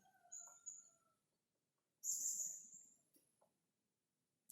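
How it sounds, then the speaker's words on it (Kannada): A few high, sharp bird chirps and calls sound in short bursts, separated by near silence in a quiet forest at Valparai, with faint insect noise. "ಬರೀ ಜೀರುಂಡೆಯ ಸದ್ದು, ಹಕ್ಕಿಗಳು ಅಥವಾ ಅಲ್ಲಲ್ಲಿ ಏನಾದರೂ ಒಂದು ಸಣ್ಣ ಪುಟ್ಟ ಕೀಟಗಳ ಸದ್ದು ಮಾತ್ರ ಕೇಳ್ತಾ ಇದೆ"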